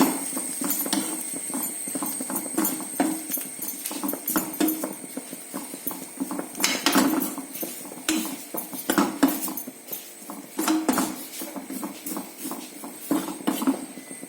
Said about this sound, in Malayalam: നമുക്കിനി ആ ഉള്ളിയും കൂടെ ഇട്ട് ഒരുമിച്ച് നമുക്ക് വഴറ്റാം.